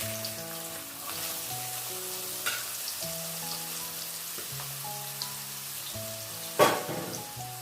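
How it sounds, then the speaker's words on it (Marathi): Chopped onion hitting hot oil in a pan with cumin and turmeric, giving a steady, close sizzle and frying hiss with one sharper crackle burst near the end, over a faint tonal hum in the background. "आपण जो कांदा चिरून घेतला होता तो कांदा टाकून घेऊया आपण"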